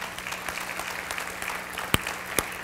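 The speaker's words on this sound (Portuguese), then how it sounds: "Alguém quis aplaudir, pode aplaudir aqui" Scattered applause from a church congregation during an evening service, a steady patter of many hands at moderate volume with a couple of sharper claps standing out.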